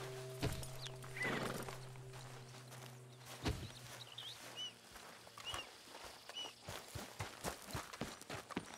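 In Red Dead Redemption 2, a horse whinnies close by, then hooves clop along in a steady walking rhythm, softly and unevenly, with faint ambient sounds behind.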